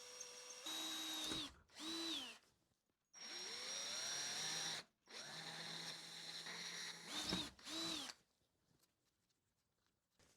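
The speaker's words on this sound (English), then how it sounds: "I'm gonna make some marks and go drill the holes for the rivets" A power drill whirs in several bursts while drilling rivet holes in copper, spinning up and winding down with pauses between, loud and close.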